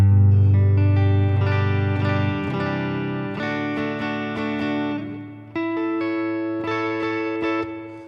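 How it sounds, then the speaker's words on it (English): Electric bass from a Nash Telly fitted with Lawler pickups, run through a Deluxe Reverb amp model on an HX Stomp, plays a loud low opening note, then a series of sustained notes and chords that ring out with reverb. "My bass tone is a Nash Telly with Lawler pickups in it, going into a deluxe reverb on my HX Stomp."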